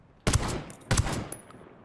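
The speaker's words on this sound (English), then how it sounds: "Spaz 12 is consistently doing it in 2 shots, whereas the Rev SG-12 sometimes took 3 shots." Two heavy shotgun blasts about two-thirds of a second apart, Spaz 12 and Rev SG-12 fire in the video game Ghost Recon Wildlands, each with a sharp crack and a decaying tail, followed by a faint metallic click.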